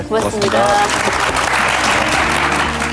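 A lecture audience at a health talk gives loud, dense applause that fills the whole stretch, with a voice speaking briefly over it.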